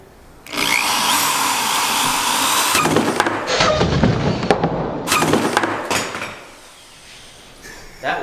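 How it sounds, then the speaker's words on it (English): A power drill whines loudly as it bores through wood for a desk, grinding and straining for several seconds before winding down and stopping, then a brief knock. "you're drilling through that one?"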